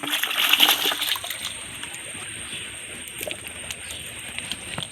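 Freshly caught river crabs are washed in water, with a burst of splashing and sloshing up front that settles into quieter trickles and small splashes.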